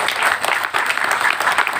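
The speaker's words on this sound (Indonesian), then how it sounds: "Boleh tepuk tangan," Audience applause at an Islamic boarding school pre-graduation event for santri, heard as a loud, dense burst of steady clapping from a crowd in a room.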